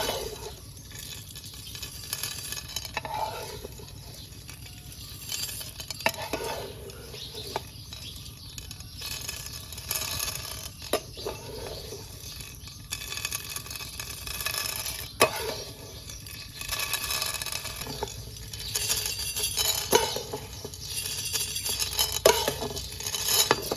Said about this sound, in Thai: ตอนนี้เมล็ดกาแฟขั่วได้ที่แล้วครับ